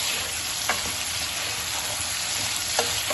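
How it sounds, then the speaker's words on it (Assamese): Egg, potato and bitter gourd frying in a pan, with a continuous close sizzle and a couple of brief spatula scrapes as the mixture is stirred. "এতিয়া ভালকৈ আকৌ গোটেইখিনি মিক্স কৰি এতিয়া লৰাই দিম"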